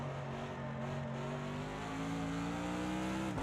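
Mercedes-AMG GT3 race car in Project Cars 2 at Bathurst, its engine droning loud and steady with rising harmonic tones that climb gently as it accelerates, then cut off abruptly at the end; no voices.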